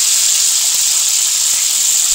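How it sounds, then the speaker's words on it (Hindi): Cauliflower frying in hot oil, a loud, steady, close hissing sizzle that holds constant throughout. "तो ये देखिए हमारी गोभी फ्राई हो रही है दोस्तों"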